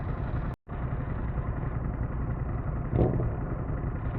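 A motorcycle, seemingly not a V-twin, runs steadily nearby with a deep, even exhaust drone, briefly cutting out near the start and swelling slightly later, with no talking over it.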